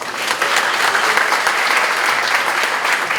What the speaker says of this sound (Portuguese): pedir a vocês uma salva de palmas para eles